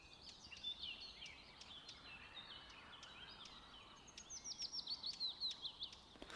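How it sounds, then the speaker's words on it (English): Birdsong in the Professional Fishing 2 fishing game, with many bright chirps and tweets layered over soft ambient noise, growing into a rapid, repeated call near the end. "You can hear some of the birds tweeting around."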